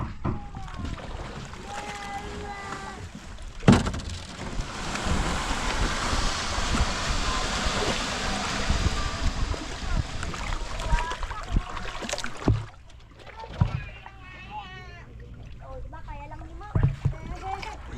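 A small fishing boat being lowered from the shore and set moving on the water, with wind rushing, a thump as it goes in, then water splashing and scraping while people talk nearby.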